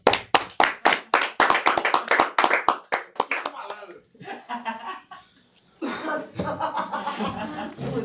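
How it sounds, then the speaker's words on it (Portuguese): An audience at a Brazilian stand-up comedy show claps in a burst of sharp, rapid handclaps, then the clapping thins into chuckles and laughter, with talking voices following. "Uma salva de palmas pro Estevão Nabote"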